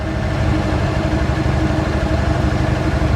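A 1955 Chevy Nomad engine runs steadily, a loud, even low-pitched drone that holds without clear revving changes as the driver gives a little gas; no voices are heard.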